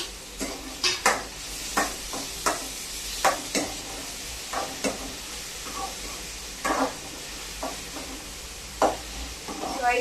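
Onions fry in a pan for bonda stuffing, a steady sizzle close by, punctuated by repeated spoon scrapes and taps against the pan at irregular intervals; no talk.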